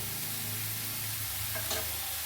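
Chopped cauliflower leaves dropped in with softened onions, frying for a cauliflower leaf thoran, give a steady close sizzle. A brief stirring scrape stands out near the end, with no voices.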